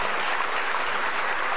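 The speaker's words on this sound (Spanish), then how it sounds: "Falta el aplauso." Audience applause after a song performed at an outdoor plaza, a short burst of dense clapping that stays loud and even throughout.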